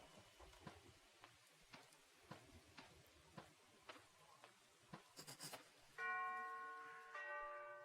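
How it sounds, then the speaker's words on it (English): At a mansion door in Arkham Horror: Mother's Embrace, a bell rings twice in sustained, resonant tones after a run of soft taps and clicks, fairly loud and alone. "I'd better ring the bell."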